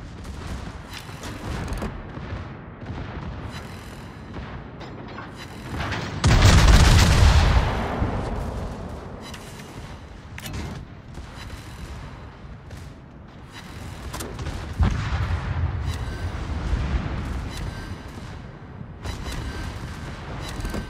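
Heavy naval guns of the battleship Tirpitz firing in a close-range naval battle game, a loud booming salvo near the start of the middle section and further rumbling blasts later over continuous battle noise.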